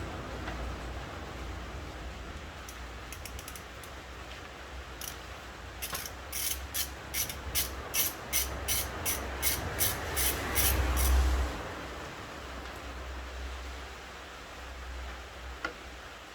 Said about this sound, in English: Now we are going to undo this, I think 17 millimeter nut.